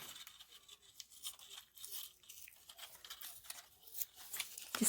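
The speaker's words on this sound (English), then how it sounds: "I'm going to rip some of this like that" Script paper ripped by hand for a papercraft project makes soft, close tearing and crinkling sounds in several short bursts.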